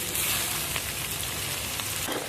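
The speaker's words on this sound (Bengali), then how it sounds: "পেঁয়াজটা একটু বেশ সুন্দর করে ভেজে নেব লাল লাল করে ভেজে নিয়েছি" Chopped onions fry in hot oil with whole garam masala and green chilies for a chicken kosha, giving a steady soft sizzle with faint crackles and no talking.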